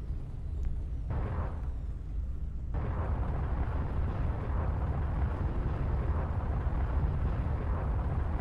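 Hostile weapon fire near an outlaw base in the space-combat video game Everspace comes through as a continuous heavy rumbling roar with muffled booming bursts, loud and sustained throughout.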